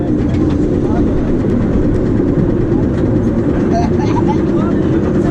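A roller coaster train at Europa Park rumbles along its track in a loud, continuous low roar with rattling and wind noise, heard from aboard the ride with faint background voices.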